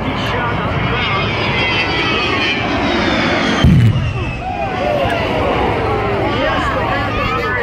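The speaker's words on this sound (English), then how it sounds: "And we feel the heat courtesy of the A-10" An A-10 Thunderbolt jet roaring past at the Cleveland National Air Show, a loud sustained engine whine that swells and shifts pitch as it passes, under an announcer talking over the crowd.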